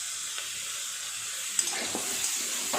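Tomatoes and potatoes frying in a pan, a steady close sizzle and hiss with a few faint stirring clicks and scrapes, no voices.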